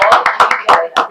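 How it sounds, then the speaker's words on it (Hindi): Audience applause at a film trailer launch: bursts of enthusiastic clapping from a crowd, loud and close, in quick uneven pulses. "इनके लिए जोरदार ताली हो जाए प्लीज"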